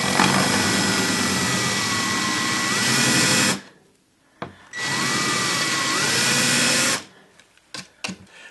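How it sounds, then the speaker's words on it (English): A power drill countersinks holes in a woodworking router table top, running in two loud, close bursts of several seconds each with a brief pause between and light handling clatter afterward. "now I'm just going to countersink those holes."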